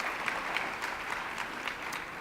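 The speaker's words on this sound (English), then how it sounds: "give them a round of applause" An audience breaks into steady applause at a LULAC event, a dense, even wash of clapping held at moderate level from start to finish, with no voices heard over it.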